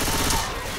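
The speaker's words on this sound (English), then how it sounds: "Someone just fucking shot a zombie." A short, dense burst of automatic gunfire as zombies are shot in a cooperative zombie-survival video game, loud and close for under a second.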